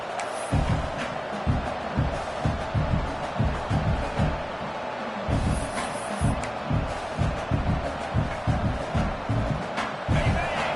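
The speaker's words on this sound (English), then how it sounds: "listen to this crowd noise. This stadium is vibrating" A loud football stadium crowd roars continuously, with rhythmic stomping or pounding thuds pulsing through the din.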